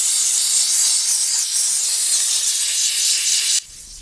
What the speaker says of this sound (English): We got the little brush and the steam.